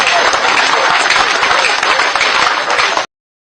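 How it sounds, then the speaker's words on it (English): A crowd at a political gathering claps loudly, dense continuous applause that ends abruptly. "They will clap."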